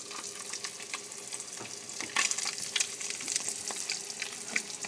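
Tilapia fillets pan-searing in a frying pan over high heat give a steady, dense sizzle with crackling pops throughout, close and moderately loud, and no voices.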